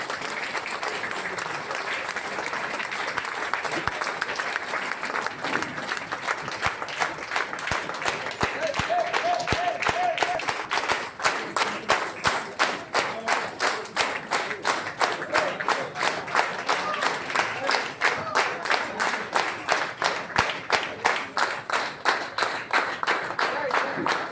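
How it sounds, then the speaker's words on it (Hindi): A large audience claps loudly at a live event, a sustained dense burst of applause that builds and continues strongly for over twenty seconds, with a few voices faintly underneath. "जोरदार तालियां होनी चाहिए, तालियों में कंजूसी नहीं।"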